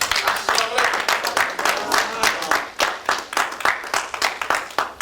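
A crowd at a mosque event applauds a student secretary being brought on stage, with bursts of clapping and crowd noise mixed with voices and cheers. The sound is lively and uneven throughout.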